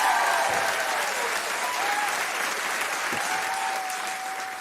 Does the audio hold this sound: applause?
yes